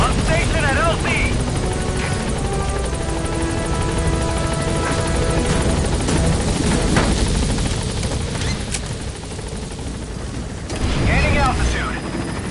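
The B-Quad helicopter from Metal Gear Solid V arrives at a landing zone: a loud, continuous rotor roar with throbbing blade chop and engine whine, a radio voice speaking over it.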